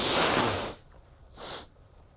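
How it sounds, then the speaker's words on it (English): A loud, wet nose blow lasting under a second, followed after a pause by a shorter, softer second blow. "I'm going to blow my nose"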